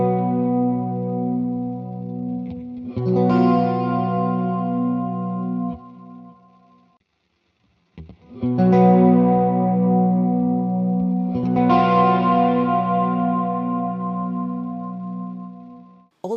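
Processed guitar through a Hotone Ampero Stomp II with reverb placed before delay on the left channel: two sustained chords ring out with swelling reverb and echo tails, separated by a brief silence, no voices.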